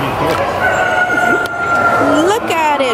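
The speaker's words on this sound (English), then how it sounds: "Look at the chickens." Chickens cluck and crow nearby at a county fair, with a rooster's drawn-out calls rising over a busy background and voices mixed in.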